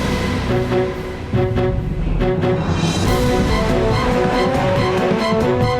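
A car speeds along a road with a loud, sustained engine roar and tire noise that rises and holds, close and steady, heard alone with no talking.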